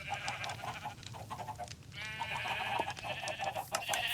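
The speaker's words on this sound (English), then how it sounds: "I've got a sheep farm here, which I ended up fixing" Sheep on a Minecraft farm bleat repeatedly, with several overlapping wavering calls close and fairly loud and no talking.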